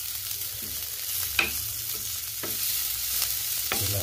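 Chopped ginger and onion stir-frying in a pan, a steady sizzle with occasional utensil scrapes and taps, close and moderately loud, no talk.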